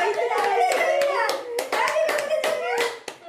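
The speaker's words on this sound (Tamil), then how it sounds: "கை தட்டுங்க கை தட்டுங்க கை தட்டுங்க கைத்தட்டு" Family members clap hands at a 61st birthday celebration, a rapid irregular run of close, sharp claps over about three seconds, with a voice and chatter mixed in.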